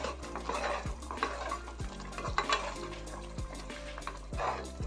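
A spoon stirs vermicelli and sago in a cooking pot for a senagaballa payasam sweet. Rhythmic scraping strokes against the metal pot repeat close by, over a soft simmering background.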